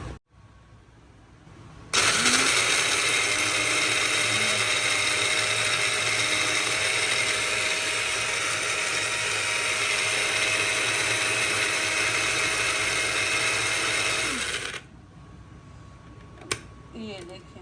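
A Sunashi electric grinder crushes round dried chillies in a loud, steady whirring run of about thirteen seconds that starts and stops abruptly, with a faint hum before and after.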